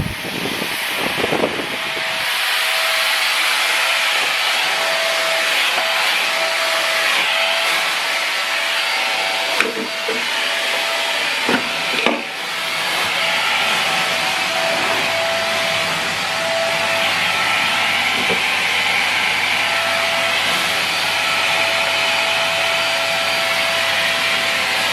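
A Goodmans 2-in-1 corded vacuum cleaner with pet tool runs continuously and loudly, a steady broadband roar with a brief dip and a few small knocks around the middle, with no talk.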